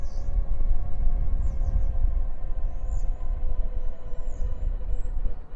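A tram pulling in at a gate on a city street, giving a low rumbling roll that holds steady throughout, with faint high squeals from the rails or wheels, and no talking.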